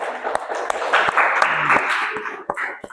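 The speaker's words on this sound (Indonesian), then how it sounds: "Ya, tepuk tangan dulu." A class offers scattered applause: a handful of sharp, separate claps at uneven intervals over a quiet background, fairly close and never building into a full ovation.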